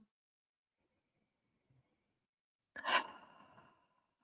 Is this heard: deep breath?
yes